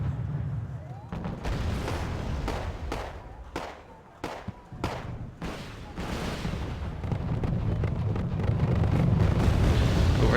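Mortar fire and explosions in the video game Wargame Airland Battle, a series of sharp booms and crackling blasts bursting irregularly over a rumbling battle bed, fairly loud and close.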